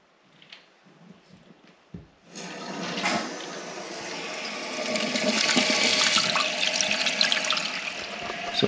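A toilet in a post-frame home build on a concrete floor starts filling after the supply is turned on: a few quiet clicks, then a steady rushing hiss of water entering the tank that swells and holds, close and loud.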